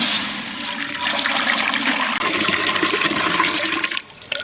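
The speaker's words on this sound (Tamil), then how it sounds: "உழ வைக்க தண்ணி ஊற்றிக்கிறோம்பா." Water gushing and splashing steadily into a heated cooking pot, loud and close, tapering off near the end.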